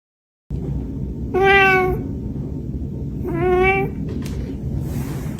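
A cat meows twice, two drawn-out, wavering cries about two seconds apart, loud and close over a roomy background hiss.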